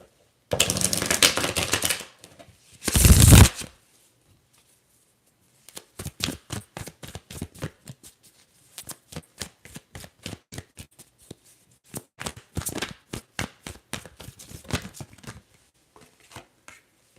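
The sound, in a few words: tarot cards being shuffled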